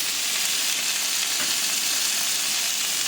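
Onions and tomatoes sauté with rock salt in a pan. A dense, steady hiss of frying holds close and even from start to end, with no voices.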